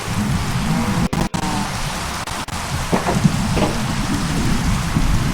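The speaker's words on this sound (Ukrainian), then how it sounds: "І ще й дощ." Steady rain pours throughout with a low rumble of thunder underneath in Minecraft with horror mods, a few sharp dropouts breaking the wash of noise; no one speaks.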